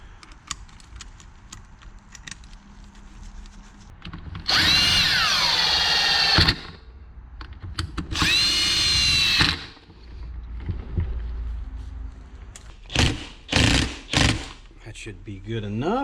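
A power drill drives screws into a Kawasaki KFX400 ATV engine case, with two long steady whirring runs of about two seconds each, then several short bursts, all loud and close over a quiet workshop background.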